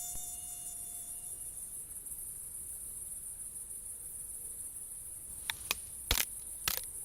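Mosquitoes buzzing, a thin high-pitched drone holding steady and close, with a few sharp brief clicks near the end.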